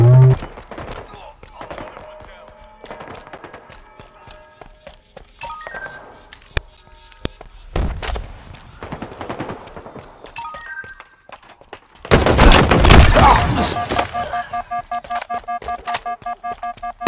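Rapid gunfire in Halo Infinite multiplayer close-quarters combat, with bursts of sharp shots and cracks, mechanical clinks, then a louder, denser stretch of sustained firing near the end.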